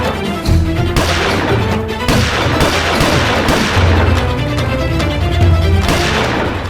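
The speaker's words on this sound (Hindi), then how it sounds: "पटाखे नहीं फोड़ रहे हैं प्रिय, गोलियां चला रहे हैं" Loud, rapid gunfire erupts during a police chase through a street, with sharp, overlapping shots and booming cracks that continue almost without pause.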